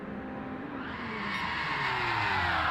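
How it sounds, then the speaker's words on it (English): Race car tires squealing and screeching in a post-race burnout at Daytona in a racing video game, a continuous loud whine with rising engine roar over about three seconds, no talk. "Blowing off a little steam, roast off those tires."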